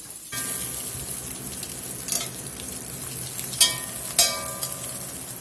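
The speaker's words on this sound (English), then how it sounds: "we got the sausage browned up here pretty good" Sausage browning in a pot for New Orleans red beans and rice gives a steady close sizzle and crackle, with several sharper clinks and scrapes of stirring against the pot partway through.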